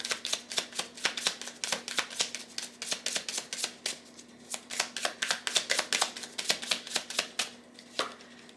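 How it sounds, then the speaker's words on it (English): Astrology cards being shuffled by hand, a rapid series of crisp riffling bursts with short pauses between, close and fairly loud with no talking. "So let's get some astrology cards on this and see what's good with that."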